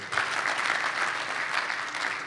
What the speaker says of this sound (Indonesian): Tepuk tangan buat Tuhan yang murah hati.